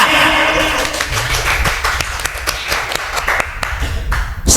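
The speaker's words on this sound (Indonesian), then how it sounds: "tepuk tangan buat Abuya." An audience at an Indonesian religious gathering claps loudly and steadily for several seconds, the sharp hand claps layered over a busy room with mixed crowd noise underneath.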